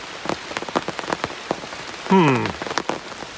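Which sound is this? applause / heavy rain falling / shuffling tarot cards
heavy rain falling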